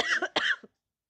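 A single person coughs twice in quick succession, close and fairly loud, followed by a faint throat sound and then silence.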